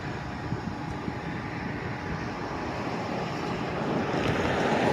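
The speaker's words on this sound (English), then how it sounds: "It's a little windy outside, so I want to apologize in advance." Steady wind buffeting the microphone outdoors near an industrial plant in Jacksonville, Florida, a broad rushing roar that grows slightly louder toward the end.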